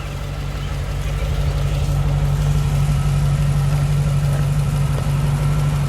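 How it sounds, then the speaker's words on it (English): A 1994 Chevrolet Corvette Brickyard 400 Pace Car engine runs loud and close, a steady deep rumble holding at a high, even level throughout with no distinct rev peaks. "Hop in, give it a rev."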